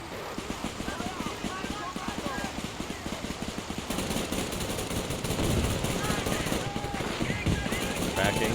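Rapid machine-gun bursts and rifle fire crackle through a World War II battle in Men of War II, set during the 1944 Normandy invasion, with a German attack on an American convoy and tank; the shots rattle steadily beneath layered battlefield noise.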